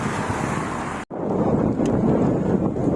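A strong northeast wind blowing hard, a loud, close rumbling buffet that cuts out for an instant and then returns just as strong.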